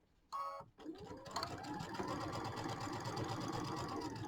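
Embroidery sewing machine stitching steadily at close range after a brief sharp start, its motor running in a continuous fast whir with a rapid mechanical needle rhythm.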